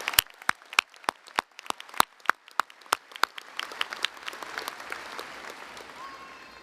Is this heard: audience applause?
yes